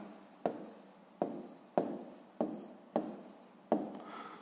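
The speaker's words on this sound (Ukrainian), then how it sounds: "пишемо відповідь" A pen writes an answer to a fifth-grade maths exercise in six quick, evenly spaced strokes, each a sharp scratchy onset that trails off, close and fairly quiet.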